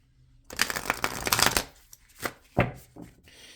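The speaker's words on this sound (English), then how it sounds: "Let me just shuffle really quick, folks. Sorry if it's loud on the mic." A deck of tarot cards is riffled and shuffled close to the mic in quick crisp bursts, followed by a few separate slaps and flicks of the deck.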